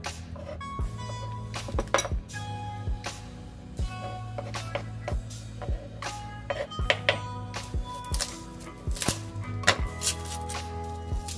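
Garlic for fried rice is chopped on a board, a knife striking in a brisk, uneven series of sharp close knocks with a few brief pauses. No one speaks.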